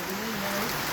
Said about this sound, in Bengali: আজকে বিকেলে হঠাৎ করে বৃষ্টি চলে এসেছে।